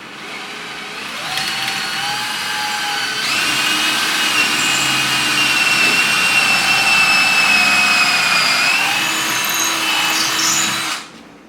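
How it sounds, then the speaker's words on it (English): A power drill pre-drills screw holes into wooden door trim, whining steadily at high speed in one continuous run of about ten seconds, close and loud, then cutting off. "I'm going to go ahead and pre-drill because I don't want to split out."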